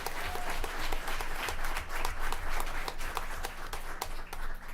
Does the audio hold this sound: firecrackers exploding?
no